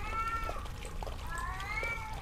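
A black cat in a horror video game meows in drawn-out, whiny cries, two clear calls with a short gap between them over a steady low background drone.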